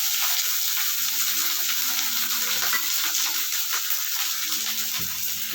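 Garlic rice fries in a pan with a continuous, even hiss and faint scattered crackles, steady and close, with no voices.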